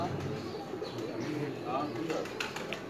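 Teddy pigeons in a loft coo softly amid a busy, noisy background, with faint chirps and a murmur of voices throughout.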